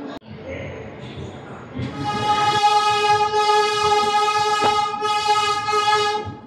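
The 22707 Tirupati AC Double Decker Express leaves Visakhapatnam station with a long, loud, steady blast of its horn, rising over the low rumble of the train and station noise.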